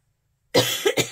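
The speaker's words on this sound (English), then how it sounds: "Excuse me, I am going to cough." Silence, then a single close, forceful cough made of a few rough bursts in quick succession.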